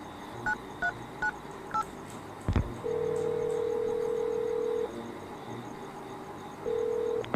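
A mobile phone keypad beeps several times, a click follows, then a steady ringback tone sounds, pauses, and starts again.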